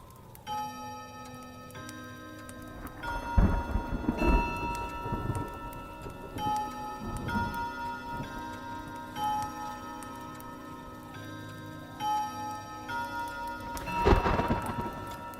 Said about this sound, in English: a storm rages outside the mansion.